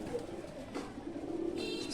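A Teddy breed pigeon gives soft, low cooing over a faint hum of background noise, close but gentle, with no talking.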